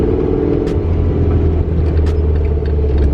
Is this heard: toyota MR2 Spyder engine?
yes